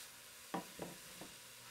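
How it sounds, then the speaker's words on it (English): Soup vegetables sizzle softly in extra virgin olive oil, a faint, steady hiss broken by three quick stirring scrapes in the pan. "I don't know if you can hear that sizzle, but the sizzle smells."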